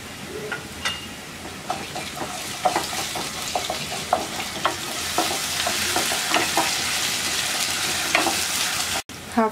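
Fried onion with ginger garlic paste sizzles loudly in a pan, crackling steadily as a utensil scrapes and stirs in irregular strokes, close and without voices.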